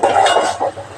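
Egg curry with garam masala being stirred in a pan, a brief scraping and clinking of a spoon against metal, close and fairly loud, with no voices.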